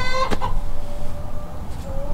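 Chickens cluck and murmur close by, with a short sharp squawk early on over a constant low background hum.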